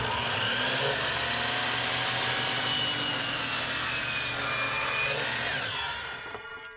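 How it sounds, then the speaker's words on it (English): A saw cuts a notch in shiplap wood paneling for a van interior build, a steady, loud whirring grind held close for several seconds before tapering off at the end, with no voices. "Now here, I'm cutting out a large notch where the shiplap would otherwise cover over the vent opening."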